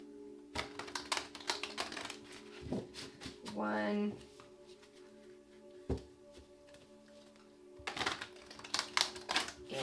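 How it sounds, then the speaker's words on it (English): Tarot cards being shuffled in a series of quick papery riffles and taps that come in bursts, with a louder cascade midway, while a person talks over them. "Let's get 2 more shuffles."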